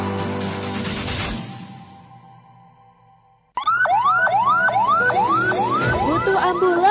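An ambulance siren in a public service announcement from a regional health service starts suddenly after a fading musical chord, wailing in rapid repeated rising sweeps, loud and close.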